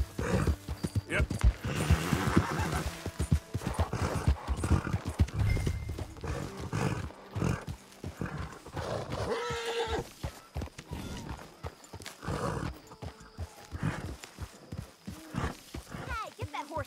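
Horse hooves clopping with an occasional whinny in the Red Dead Redemption 2 video game, busy and close, mixed with game ambience and voices talking over it.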